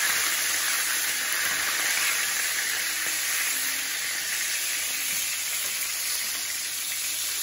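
Bacon and garlic sizzle steadily in a hot pan while cooking beef tenderloin steak, a constant bright frying hiss with no clear pauses and no talk.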